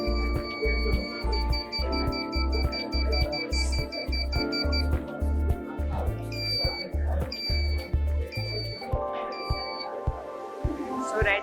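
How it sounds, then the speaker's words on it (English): A student-built rain detector system sounds its buzzer alarm in a repeating electronic pattern of rhythmic beeps and tones, loud and close, with some background noise between pulses. "This is the buzzer, which is indicating that there is not rain,"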